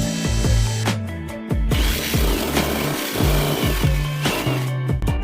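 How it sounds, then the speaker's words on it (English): A power drill whirs in repeated short bursts, motor pitch dropping and rising as it bites into material, close and loud. "This drill is so powerful"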